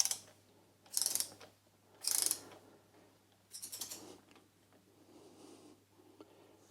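A torque wrench ratchets a bolt on a Royal Enfield Classic 350 motorcycle during a service, giving several short bursts of sharp metallic clicking, close and clear, with quieter strokes toward the end.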